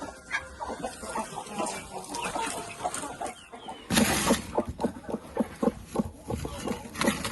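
Broody hen sitting on a clutch of eggs in a farmyard coop, clucking in soft repeated bursts at close range, with other fowl sounds and some low talk in the background.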